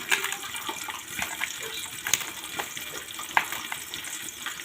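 Peas frying in hot oil give a dense, continuous crackling sizzle with occasional sharper pops and a few brief clinks, steady and close throughout, with no voices.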